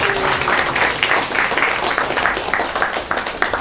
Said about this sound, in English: He even gets applause for that.